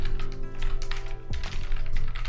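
Close, fast typing on a computer keyboard during coding, crisp overlapping key taps in a continuous flurry, with a steady low hum beneath.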